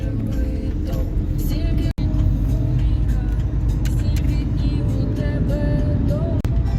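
Inside a moving car, a steady loud road and engine rumble fills the cabin with a couple of sharp knocks, and people talk quietly over it.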